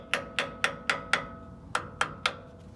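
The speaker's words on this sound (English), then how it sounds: "kind of just tap everything with a hammer" A hammer tapping on seized brake line fittings of a 1974 Ford F350 truck during a brake system overhaul: eight sharp, ringing metallic taps in an even rhythm with a short pause midway, close and clear.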